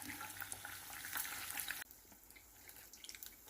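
Paneer pakora frying in hot oil, a dense crackling sizzle for most of the moment that drops abruptly to a quieter, sparser bubbling with scattered pops, no voices.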